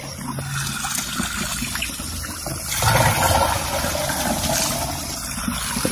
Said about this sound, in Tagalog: Tingnan nyo, lakas na yung agos.